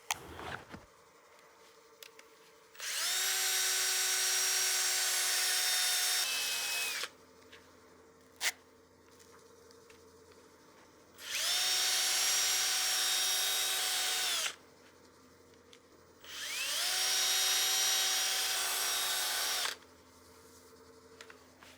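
Three bursts of high-pitched whirring from a power tool, each a few seconds long with steady tone, separated by quieter gaps holding a low hum, close and moderately loud while a partially seasoned bowl is worked and sanded at 800 grit.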